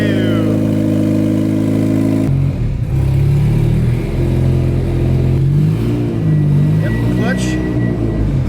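A twin-turbo Honda Civic engine runs close by, holding a steady droning idle before its pitch climbs and wavers in revs, with talking over it.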